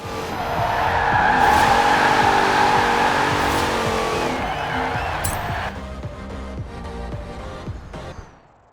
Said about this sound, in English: burn those tires